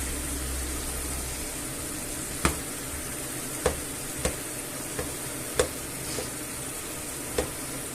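Chorizo sausages fry in a pan for a Spanish red-wine dish, giving a steady close sizzle broken by about seven sharp clicks and scrapes of stirring, with no talk.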